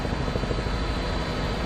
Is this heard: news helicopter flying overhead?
yes